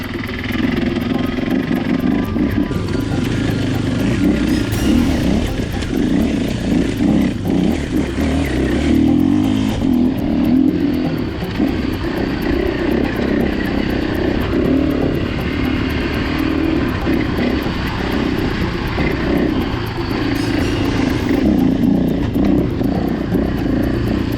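A small KTM EXC enduro motorcycle engine revs and drones continuously up close, riding off-road over rocks, rising and falling with throttle over a long ride, no speech.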